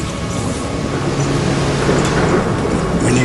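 Thunder rumbles under heavy rain in the Rhodope mountains of southern Bulgaria, a loud, steady downpour with a deep roll of thunder running through the whole stretch.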